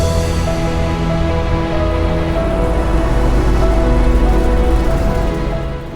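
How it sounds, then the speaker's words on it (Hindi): Steady rain starts to fall outdoors as a dense, continuous hiss of drops on surfaces, loud and even throughout with a constant low rumble beneath. "बारिश की शुरुआत हो चुकी है।"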